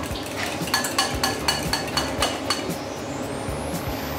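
A spoon stirs ingredients together in a metal pot for paçe, giving off a run of rhythmic scraping clinks about twice a second, close and fairly loud, fading into quieter scraping toward the end, with no speech.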